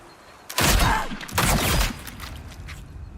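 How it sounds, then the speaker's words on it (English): Gunshots in the video game HUNGER, two loud bursts of firing about a second apart, each a rapid cluster of shots with a ringing tail, fairly close. "Heard the shots when they came creeping up."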